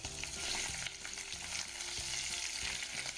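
Spinach leaves sauté with sliced garlic in a hot pan for a gnocchi dish, giving a close, steady sizzle with a few soft stirring scrapes over about three seconds.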